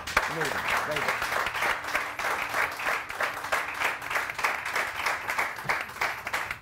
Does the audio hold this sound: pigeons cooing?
no